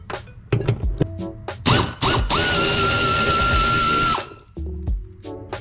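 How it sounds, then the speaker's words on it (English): A 10mm socket on a ratchet loosens a bolt under a car hood during a hood lift support install: close, loud ratcheting clicks in short bursts, then one long steady whirring run of about two seconds, with no talk. "we're gonna use a 10mm socket. We're gonna loosen this bolt right here underneath the hood."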